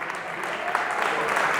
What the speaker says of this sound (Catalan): i li féssiu un fort aplaudiment